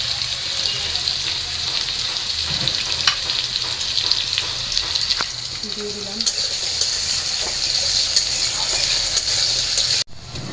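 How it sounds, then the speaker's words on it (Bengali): Potatoes and onions frying in a pan with salt, a steady close crackling sizzle with occasional stirring scrapes throughout, cutting off abruptly near the end. "এই যে আমার আলু আর পেঁয়াজটা ভাজা হয়ে গেছে"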